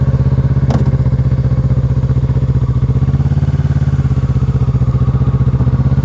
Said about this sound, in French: le ralenti est un peu haut là